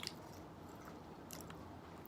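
Close-up chewing of a crunchy fried Thai seaweed snack, soft crisp bites and squishy mastication, faint and intimate with a couple of sharper crunches.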